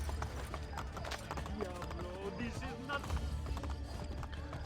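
Horse hooves clip-clop steadily in the video game Assassin's Creed: Brotherhood, an even trotting rhythm that runs throughout under background game sound and voices.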